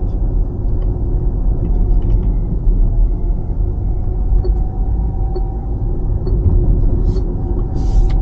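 A 2022 Lucid Air rolls along on cruise control, with a steady low road rumble and tyre noise filling the cabin and faint light ticks near the end.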